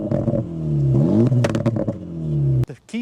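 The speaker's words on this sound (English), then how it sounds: "start it up so you can hear that exhaust note" A 2025 Acura Integra Type S engine fires up and revs, its deep exhaust note rising and falling with throaty crackles before cutting off abruptly near the end.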